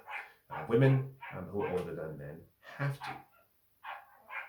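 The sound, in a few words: dog barking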